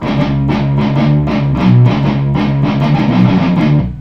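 Loud, close electric guitar plays a quick riff of repeated picked notes in a steady rhythm, with no talking.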